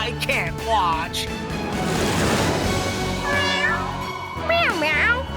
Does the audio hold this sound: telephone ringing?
no